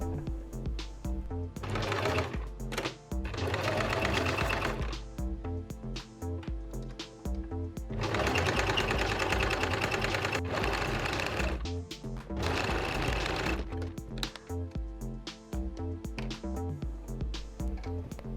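A sewing machine sews a fabric bow-tails piece for a scrunchie, starting with a back tack, in several stop-start runs of rapid rhythmic stitching that are close and fairly loud, with short pauses between the bursts.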